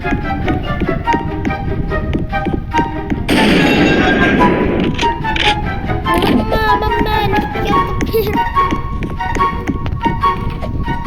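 Sniper rifle shots in Roblox Brookhaven, sharp cracks that stand out over a steady noisy game bed with scattered tapping sounds.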